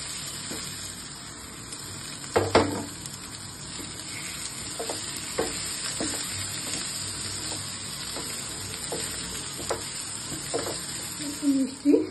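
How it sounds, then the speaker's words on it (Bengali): Pieces of karkol potato fry in a spice paste with Kashmiri red chilli powder, giving a steady low sizzle. Occasional clicks and scrapes of stirring come through from close by. "এবার আমি কারকোল আলুটা এই মশলার মধ্যে দিয়ে আবার একটু কষিয়ে নেব।"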